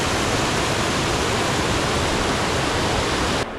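A waterfall roars steadily at a Poconos campsite, a loud, dense, unbroken rush filling the whole clip before dropping off sharply at the very end.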